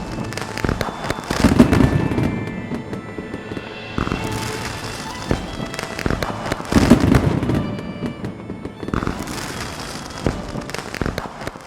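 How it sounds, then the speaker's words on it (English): Fireworks burst over the sea beside a Disney cruise ship, with continuous crackling and popping, repeated booming volleys and dense sparkle over about twelve seconds, loud and rich with echo. "And let's not forget the fireworks."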